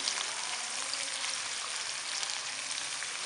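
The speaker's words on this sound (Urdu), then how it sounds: "اب اس میں گرین پیاز کا وائٹ والا حصہ شامل کریں گے, اسے بھی 15 سے 20 سیکنڈ پکائیں گے" Green onion whites frying in a pan over medium-low heat, making a steady, even sizzle that runs without a break.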